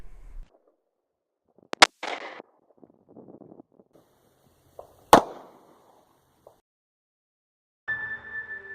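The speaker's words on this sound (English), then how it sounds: "We're going to shoot it out of my wife's Shield 9mm." Two sharp gunshots from a Smith & Wesson Shield 9mm pistol firing Magtech 147gr bonded JHP rounds, spaced about three seconds apart, each loud and close with a short echoing tail, and quieter handling noises between them.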